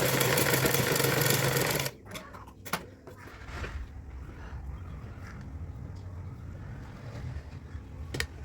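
A sewing machine runs fast and loud for about two seconds while stitching a puff sleeve, then stops, leaving faint handling clicks and low background rumble.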